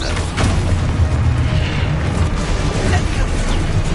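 Expulso spell explosion in Hogwarts Legacy, a loud, dense blast of rumbling noise that stays heavy and sustained for several seconds with low booming energy underneath.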